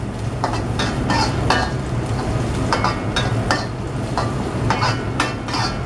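Garlic and onions frying in a pan give a steady, close sizzle, broken by regular scraping stirs at a brisk rhythm, with no voices.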